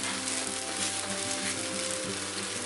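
Goan sausage chilli fry sizzling steadily in a pan, a dense, even hiss close by that continues without pause and has faint mechanical ticking underneath, with no one speaking.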